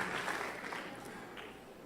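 A congregation applauds during a church sermon, a short burst of dense, even clapping heard at a moderate distance with little else over it.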